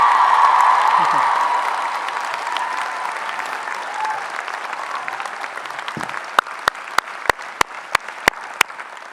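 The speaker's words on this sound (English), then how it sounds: "let's give a huge round of applause to all the parents and loved ones who made this possible" Commencement crowd applauding parents and loved ones, a large audience's clapping and cheering swelling loudly then fading, ending in a series of sharp, evenly spaced single claps near the microphone.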